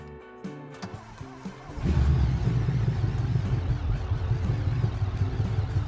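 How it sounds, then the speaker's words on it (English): A rebuilt naturally aspirated 704-horsepower car engine in the BeamNG driving game, with no turbo or supercharger, starts up after a short quiet idle and settles into a loud, steady, deep rumbling run. "We're at 700 horsepower, 704. And we'll listen to it run."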